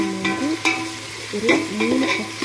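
Vegetables for a veg biryani sizzle and hiss steadily in a hot pan, close and fairly loud, with sharp scrapes and clinks of a stirring spoon against the metal.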